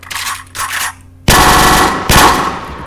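Two loud bursts of rapid machine gun fire in a video game, close and sharp, preceded by softer mechanical clicks and rustling.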